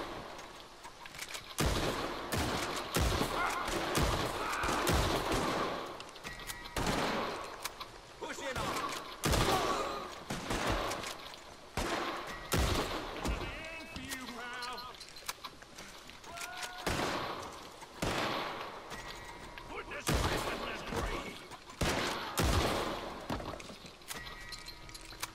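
Rapid bursts of gunfire crackle through a Red Dead Redemption 2 Online shootout, loud repeated shots layered with overlapping volleys and game noise, continuing steadily throughout.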